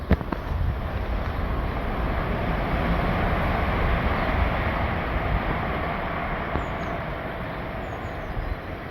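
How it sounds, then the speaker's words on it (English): Steady wind blowing outdoors in a garden with a peach tree on a bright sunny day, a continuous broad rushing and buffeting that stays fairly loud throughout with no talking. "And the wind, you can feel the wind and the breeze."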